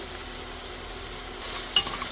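Mushrooms fry in a pan with oregano and basil, a steady close sizzle throughout, with a brief clink of stirring near the end.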